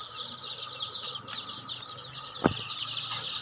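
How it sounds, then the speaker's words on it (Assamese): A crowd of original local chicken chicks at a hatchery chirps continuously in a shrill, busy chorus, with one brief thump partway through. "এইটো হৈছে অৰিজিনেল লোকাল মুৰ্গীৰ পোৱালি।"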